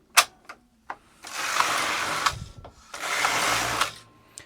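A Singer Superba knitting machine's carriage sweeps across knitting tuck stitch rows, two long rasping passes separated by sharp clicks and clacks of the mechanism.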